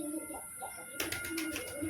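A pigeon coos at close range, soft low murmuring notes that become brighter and busier halfway through, with light rustling around it.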